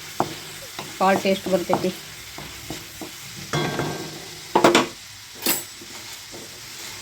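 Curry leaves and garlic frying in hot oil, crackling in short bursts of close, lively sizzle with a few pauses, and a voice speaks briefly near the end.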